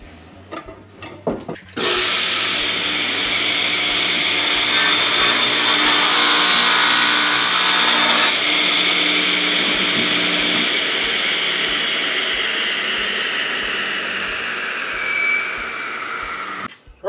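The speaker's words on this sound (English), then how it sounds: "start by rough cutting our board to length" A board is rough-cut to length with a power saw, one loud sustained cut of about fifteen seconds that starts abruptly, holds steady with a brief harsher stretch early on, then spins down, with no talking.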